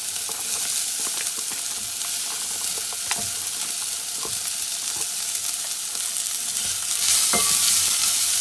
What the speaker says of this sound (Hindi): और इसे 1 से 2 मिनट के लिए फ्राई करेंगे